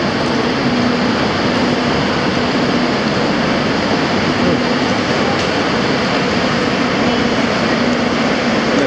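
Steady rumble and hiss of a KTT double-decker train riding from Hong Kong to Guangzhou, a constant near, loud interior drone with faint periodic tones and no voices.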